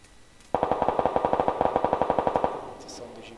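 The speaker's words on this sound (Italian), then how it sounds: "Arrivano da là gli spari." Rapid burst of automatic gunfire from the video game PUBG Lite, about twenty evenly spaced sharp shots in two seconds, loud and close, then a fading echoing tail.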